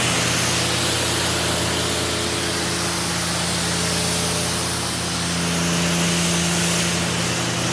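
A garden hose spraying water steadily while washing a BMW M3, a loud, close, continuous hiss with a faint underlying hum and no talking.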